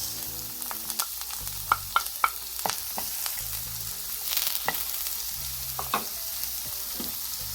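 Garlic frying in oil in a pan with onion, a continuous hiss broken by frequent sharp spoon scrapes and taps at close range, without speech.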